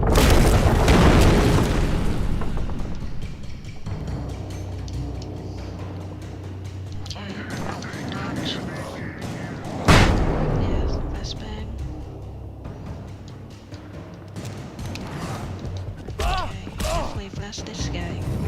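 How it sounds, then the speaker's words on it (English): Flashbang blasts and gunshots from the video game Alan Wake Remastered, with a sharp loud boom near the middle among dense game noise and music, while someone talks over much of it. "One flashbang, then switch to flare and then shoot them."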